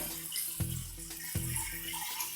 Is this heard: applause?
no